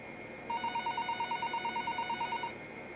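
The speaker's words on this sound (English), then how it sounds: "the phone on the counter rang" A telephone on a counter rings in a steady electronic trill, one continuous burst of rapid pulsing tones lasting about two seconds, clear and close over a quiet background.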